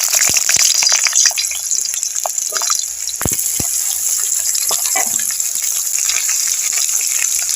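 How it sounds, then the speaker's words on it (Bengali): Potatoes fry in hot oil with a loud, close, continuous sizzle and bubbling, dotted with quick crackles and occasional scraping or knocking. "তেলটা গরম হয়ে গেছে, আমি আলুগুলো ভেজে নেব।"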